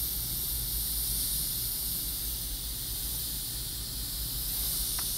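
An airbrush sprays paint during practice exercises, giving a continuous, even hiss that holds steady from start to finish. Nothing else interrupts it, and no one talks.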